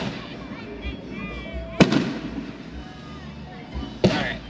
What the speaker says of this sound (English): Just gonna enjoy the fireworks.